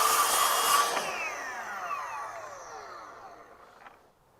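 A Ryobi PTS01 18V cordless track saw, 6-1/2 inch blade set to a one-inch depth, whines down after a cut, its high motor pitch sliding lower and fading over a few seconds.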